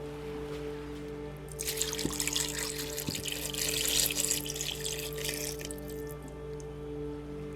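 Water pouring into a jar outdoors in the woods, a bright rushing splash that builds for a few seconds and then fades, over a low steady background hum and a couple of soft knocks.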